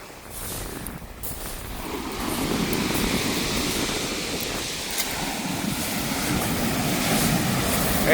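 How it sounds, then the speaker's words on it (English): Strong wind roars across the microphone while heavy waves break and surge on the shingle of Chesil Beach, a steady loud rush that builds through the clip. "As you can probably hear, the wind has picked right up."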